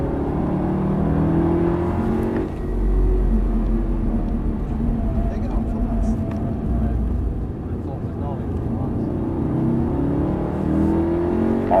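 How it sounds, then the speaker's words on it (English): A car is driven on a race track under throttle, its engine holding a steady loud drone with shifting pitch throughout, while an instructor talks over it. "Slow the car a bit and drive it down the hill to the big braking zone."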